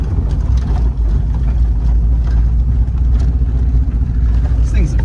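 Holden VT Clubsport engine pulling hard in second gear, a loud, close, continuous low rumble from inside the car with steady engine drone throughout, and voices talking over it.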